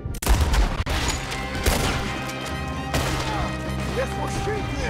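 Gunfire in a Red Dead Redemption 2 shootout: several sharp shots and cracks over a continuous game soundscape, with impacts ringing out and a dense, loud mix.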